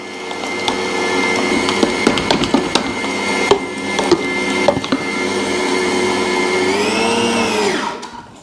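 An electric mixer churns Italian sausage meat for sweet Italian bratwurst, its steady motor whine layered with rhythmic thumps and knocks from the paddle, then it winds down in pitch and stops at the end.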